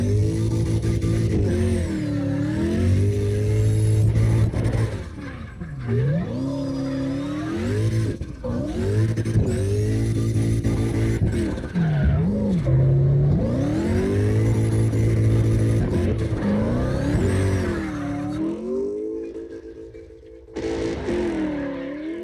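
A Mustang GT in the CarX Drift Racing video game revs hard in sustained rising and falling engine sweeps while warming its tires, with brief tire squeals, loud and continuous until a short dip near the end.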